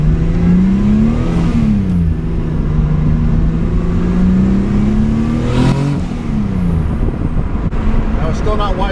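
Chevrolet Cavalier Z24 engine revving, short of wide open throttle, with pitch climbing, holding and dropping in a loud, close drone; someone talks over it.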